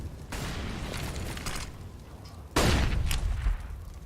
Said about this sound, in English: Little too strong, the flashbang